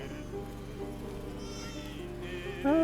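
A faint sheep bleat or two over a quiet, low-level background, with a louder bleat near the end.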